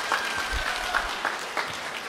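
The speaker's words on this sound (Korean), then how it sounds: "여러분 큰 박수 부탁드립니다." Guests at a wedding ceremony in a hotel applaud together, a steady mid-level patter of many hands clapping for a couple of seconds.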